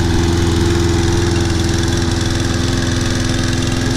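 A Toro Personal Pace Recycler self-propelled lawn mower with a sticking choke runs loudly and close, its small engine chugging in a steady, slightly uneven low throb without climbing to full revs.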